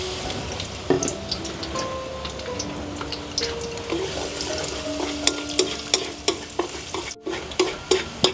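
Minced shallots sizzle and fry in hot oil while being stirred, a steady crackle with sharp scraping clicks from the utensil growing louder toward the end, with no talking.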